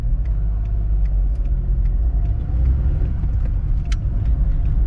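An Abarth car engine rumbles steadily and loud throughout, a continuous low drone as the car pulls away, with no talking.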